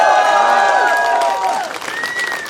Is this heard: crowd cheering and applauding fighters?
yes